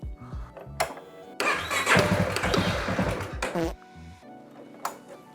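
A motorcycle engine cranks on a weak battery in bursts, a strained starter whir that swells for a couple of seconds, then cuts out, with clicks and short stutters around it, close and moderately loud.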